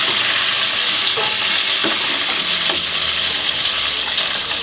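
Chicken pieces fry in 200-degree oil, stirred with a spider skimmer, producing a loud, dense, continuous bubbling sizzle up close, with faint metallic scrapes now and then.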